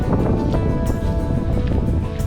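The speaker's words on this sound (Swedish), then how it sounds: "Det blåser lite kallt." Cold wind gusting across an open hiking trail on the Bergslagsleden, buffeting the microphone with a steady loud rush and scattered blustery bursts, with no voices.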